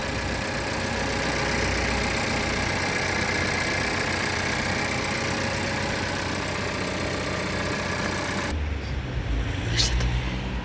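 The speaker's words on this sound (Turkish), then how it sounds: "Şu anda motor sesi bu şekilde." An MG HS engine idles steadily at close range, a continuous low rumble with a faint rhythmic knock, ending with a brief clatter.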